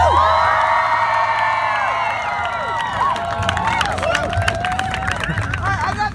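A Boston crowd on New Year's Eve cheers, whoops and claps loudly in response to a performer on stage, a dense sustained roar of many voices and shouts that stays strong throughout.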